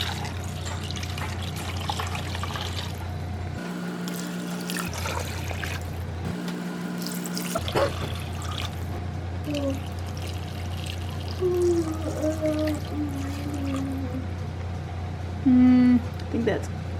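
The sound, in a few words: water filling a container from the tap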